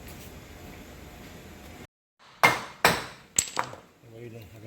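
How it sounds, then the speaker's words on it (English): On a wrecked 2012 Mitsubishi Lancer Evolution GSR, three or four sharp metallic hammer taps drive the axle out of its hub, following a brief silence, each strike ringing and decaying quickly. "you take a piece of wood or a hammer and tap it right here."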